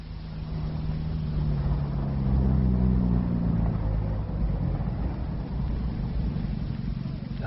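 A low, steady engine rumble runs throughout, swelling slightly midway, with faint indistinct voices underneath.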